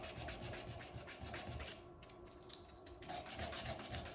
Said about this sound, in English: So I've got like these little like micarta chunks that I wrap sandpaper on